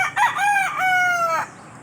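A red junglefowl (labuyo) rooster crows once, loud and close, a single rising then sustained call lasting about a second and a half before cutting off into quiet.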